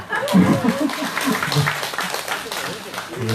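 Applause from a crowd at a Wednesday protest rally in Soseong-ri, a steady patter of clapping heard under and alongside people talking.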